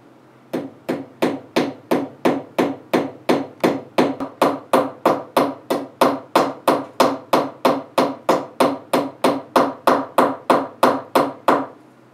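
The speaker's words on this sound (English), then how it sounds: "I'm going to try to make sure that every single blow lines up perfectly so that we create an overall uniform texture." A hammer strikes copper washers on a bench block in a steady, evenly spaced series of about thirty sharp metallic taps, loud and close, with no talking.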